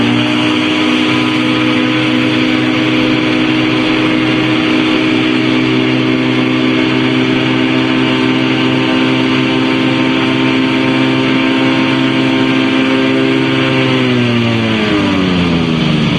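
A Challenger II light aircraft engine drones steadily and loudly close by, a constant buzzing hum that holds for most of the time and then shifts in pitch near the end.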